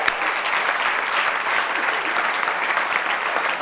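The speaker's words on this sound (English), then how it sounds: "Give him a round of applause as he comes up." Audience applause at a stand-up comedy show, a steady dense wash of clapping from a crowd that stays even and moderately loud from start to finish.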